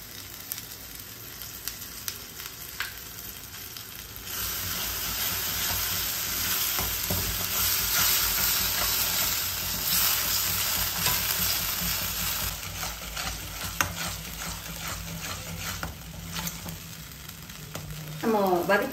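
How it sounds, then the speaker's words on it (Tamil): Tomatoes and curd sauté in a pan for a spicy Tamil crab curry, a strong steady sizzle that swells after a few seconds, with frequent metallic stirring scrapes and clinks throughout. "நம்ம தயிர் போட்டு கொஞ்சம் நேரம் வதக்க போகிறோம்."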